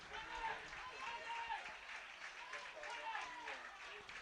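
Football crowd at a Woking versus York City match giving a departing substituted player a round of applause, a distant, steady patter of clapping heard beneath a commentator's ongoing speech.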